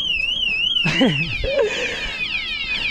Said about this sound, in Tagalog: So gumagana yung alarm.